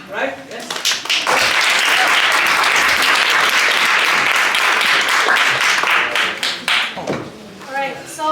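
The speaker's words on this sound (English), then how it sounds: "Let's welcome her with a clap, right?" A crowd applauds with steady, dense clapping for several seconds, fading out as it ends.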